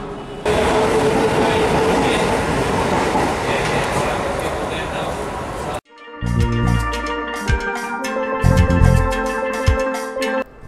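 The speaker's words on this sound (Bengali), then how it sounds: "প্রায় 50 মিনিট চলার পর ট্রেন এসে থামল গোবরডাঙ্গা স্টেশনে।" A passenger train pulls into Gobardanga station, its rumbling run giving way to a sudden drop, then clanking, squealing wheels and rhythmic clatter as it slows and stops close by.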